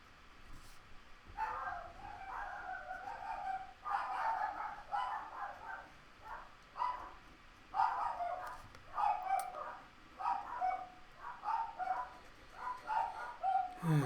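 A dog barks repeatedly in short bursts, somewhat distant and muffled, with a few higher yips mixed in over a quiet background.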